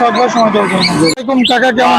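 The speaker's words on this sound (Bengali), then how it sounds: "এই যে বাজারে অনেক পাখি আছে এখানে দেখি বাজিগার পাখি দেখতে পাচ্ছি অনেক" Budgerigars chirping at a crowded bird market in Tongi Bazar, with bright overlapping tweets and warbles close by while people talk over them.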